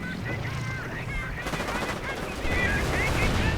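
Rapid automatic flak fire from a Wirbelwind anti-aircraft panzer in a real-time strategy war game: dense, continuous gunfire and battle noise that grows louder partway through, with someone commentating over it.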